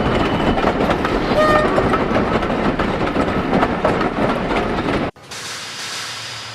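A goods train rumbles steadily through the yards with a loud, continuous roll that cuts off abruptly near the end, leaving a quieter hum.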